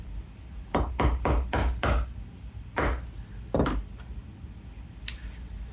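A mallet strikes an English point punch into layered leather strap, giving five quick, sharp thuds in a row, then two spaced blows and a faint final tap, close by in a quiet room.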